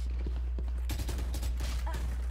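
Rapid bursts of gunfire from a shooting video game crack in quick succession at moderate volume, with faint player voices underneath.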